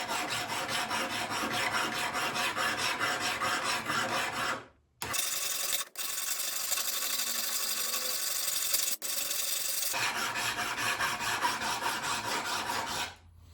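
Hand files rasping back and forth along a steel drop point knife blade, a steady, fast, even scraping stroke rhythm, close and loud, with two brief pauses partway through.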